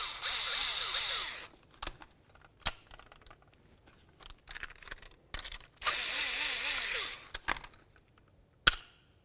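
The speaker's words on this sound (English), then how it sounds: "Let's go ahead and use our 10mm to loosen each of these 2 bolts." Ratcheting 10mm wrench loosening two bolts inside the door of a 2000-2005 Buick LeSabre during a front window regulator replacement, heard as two bursts of rapid clicking with scattered metallic taps between them, close and moderately loud.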